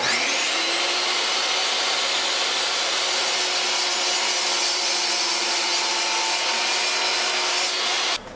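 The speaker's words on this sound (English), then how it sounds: "I'm going to take this to the table saw, cut this depth first" A table saw cutting a strip of Douglas fir or basswood for a luthier's fret file, a loud, steady whining roar held for about eight seconds before cutting off abruptly.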